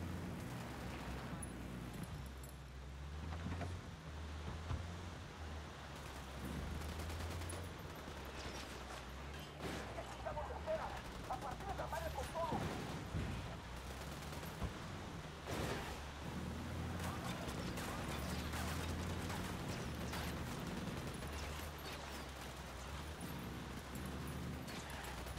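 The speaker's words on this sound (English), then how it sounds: "Opening fire on these shitheads." Squad gunfire in Ghost Recon Wildlands sounds as scattered cracks and short bursts over a low rumbling background, faint overall, with voices of the squad talking in between.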